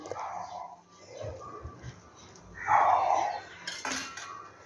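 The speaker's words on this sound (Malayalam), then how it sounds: "1 ഏത്തപ്പഴം 3 ആയിട്ട് കട്ട് ചെയ്യുകയാണ്" A knife cutting a banana into three pieces in a home kitchen while making banana fritters: a few soft, close taps and scrapes of the blade against a board and dish, with faint clinks.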